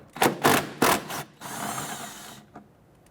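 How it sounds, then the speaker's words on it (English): Two 10mm bolts behind the wheel of a 1992-1996 Toyota Camry 2.2L being loosened and removed with a ratchet, a few rapid clicking bursts followed by a longer buzzing whir, close and alone. "With the wheel off, you're going to see 2 10mm bolts here. I'm going to go ahead and loosen and remove those."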